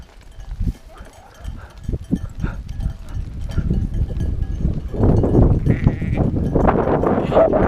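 A flock of sheep bleating outdoors, sparse at first and then thickening into a dense, loud chorus of overlapping calls as the animals are driven closer.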